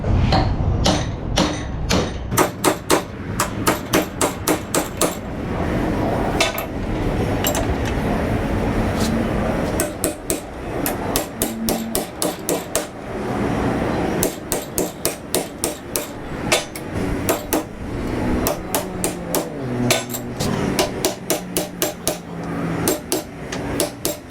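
A bent strut plate is hammered straight in an auto repair shop, with bursts of loud, sharp metallic hammer blows in rapid series, pausing briefly between runs, close and echoing.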